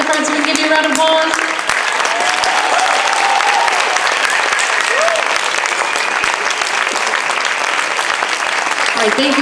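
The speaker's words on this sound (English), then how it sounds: "come up to the front so we can give you a round of applause" Audience applause for percussionists at a high school band spring concert, a steady, dense clapping that fills the hall at full volume and holds evenly from start to finish, with cheers rising over it.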